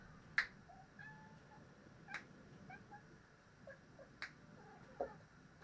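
A house cat gives several short, faint meows and chirps, spaced a second or so apart, over a quiet room background.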